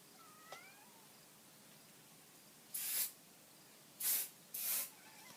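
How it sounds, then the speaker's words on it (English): Hairspray sprayed onto teased hair, three short close hissing bursts in the second half after a faint brief squeak and quiet room. "Once I have that all teased, I'm going to spray that into place."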